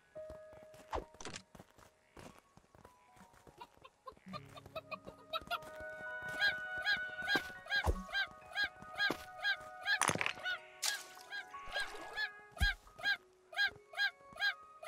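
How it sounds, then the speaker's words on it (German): Chickens in the video game Craftopia cluck and squawk in a busy run of repeated calls, with thumps and game effects mixed in, growing denser and more rhythmic toward the end. "Er ist jetzt von Hühnern verfolgt."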